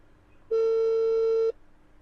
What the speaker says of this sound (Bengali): ফোন ঢুকছে।